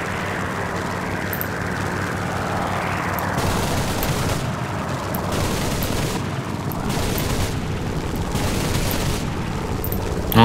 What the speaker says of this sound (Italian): lui sta sparando